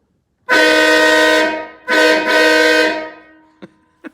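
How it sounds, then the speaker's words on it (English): A Big Bad Max anti-riot air horn from O'Reilly, installed on a vehicle, sounds two loud, blaring, harmonically rich blasts, the first about a second long and the second longer, followed by two short sharp clicks. "I got this Big Bad Max. I don't know. It was like, it's an air horn."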